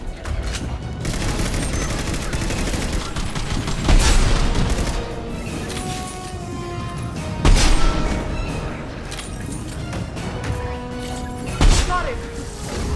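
Rifle fire and explosive booms in a Mass Effect 2 Legendary Edition battle, steady shooting punctuated by three heavy impacts at roughly four-second intervals, loud and close, with voices talking over it.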